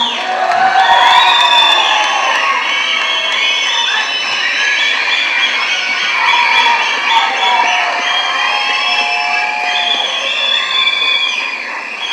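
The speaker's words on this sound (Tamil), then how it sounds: "ஒரு நல்ல கைத்தட்டல கொடுக்கலாம்" A large audience at the Garudan film audio launch cheers loudly, with shrill whistles and rising, falling shouts layered over a continuous crowd roar that lasts throughout.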